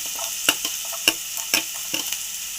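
Chopped vegetables fry in a pan for an egg samosa filling, with several sharp stirring scrapes and spatula knocks over a steady close sizzle.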